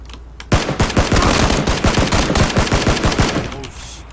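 A rapid, loud burst of automatic gunfire in the video game PUBG rattles continuously for several seconds, shots tightly spaced, then trails off into quieter background.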